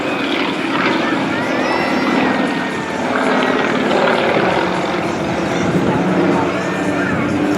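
Yak aircraft flying in close formation at an air show, pulling over the top and moving away, give a continuous droning propeller roar heard under a commentator's voice.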